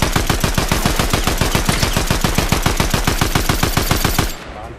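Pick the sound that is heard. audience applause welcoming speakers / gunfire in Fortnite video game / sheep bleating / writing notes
gunfire in Fortnite video game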